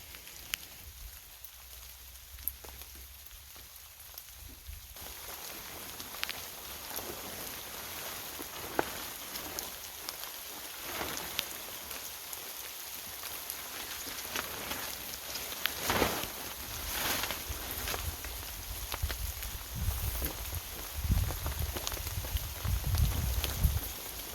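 Rain falls steadily outside at an off-grid tiny cabin build site on a cold day around 40 degrees, a continuous patter of drops on surfaces that grows denser and louder over time.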